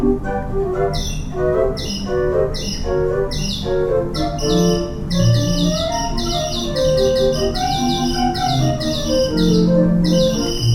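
Kimball theatre organ music with bright, chirping bird-whistle effect notes trilling high above sustained flute pipe tones, steady and fairly loud throughout.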